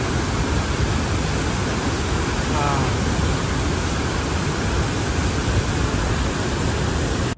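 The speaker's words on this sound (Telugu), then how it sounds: "3 వైపుల నుంచి కిందకి పడుతున్న జలపాతం" Hogenakkal Falls on the Karnataka side, water pouring down from three sides as a loud, constant broadband roar, with a faint voice briefly under the rush.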